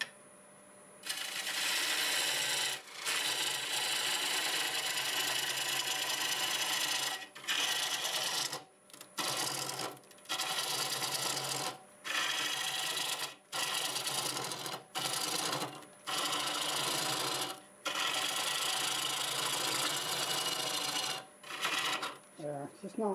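An oak workpiece spins on a wood lathe at about 800 RPM, giving a steady broadband hiss and rasp of cutting. It comes in repeated passes broken by brief pauses, loud and close.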